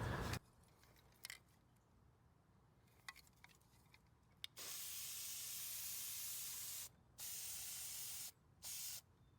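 Aerosol spray can hissing in long steady bursts, a few short taps first, then three sustained sprays of decreasing length, close and loud.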